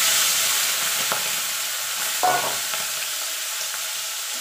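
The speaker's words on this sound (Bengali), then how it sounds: "দেখুন বন্ধুরা তেলটা গরম হয়ে গেছে, চিংড়ি মাছটা দিয়ে দেবো।" Shrimp drop into hot mustard oil and sizzle steadily in the pan, a bright continuous frying hiss with a couple of brief louder spatters, close by and with no talking.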